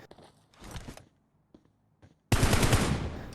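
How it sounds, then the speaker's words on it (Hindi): Gunfire in the BGMI battle royale game during a tournament match: a few short, faint shots and small clicks, then a loud, close burst of rapid automatic fire at the end. "आफाक मलिक ने शॉट्स लिए, थोड़ा सा डैमेज दिया"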